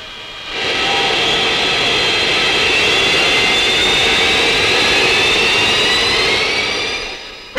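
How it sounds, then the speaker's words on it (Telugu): An airplane flying close overhead sends a loud, steady jet-engine roar that swells in quickly, holds for several seconds and fades slightly at the end, with no voices over it. "అయ్యో విమానం వచ్చేసింది."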